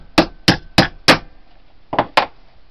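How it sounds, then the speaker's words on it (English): Six sharp hammer strikes on a metal cutter head while making percussion caps: four evenly spaced taps, a pause, then two more quick blows, close and ringing briefly. "Take your hammer, a couple of swats."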